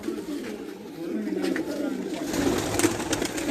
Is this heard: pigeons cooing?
yes